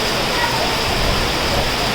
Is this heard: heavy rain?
yes